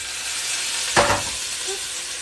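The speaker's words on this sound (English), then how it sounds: "Now my oil is nice and hot, and we're just going to add our rice right in there. It's going to sizzle a little bit." Rice added to hot oil in a home kitchen pan, a sudden burst of sizzling hiss that rises sharply and then settles into a steady fry.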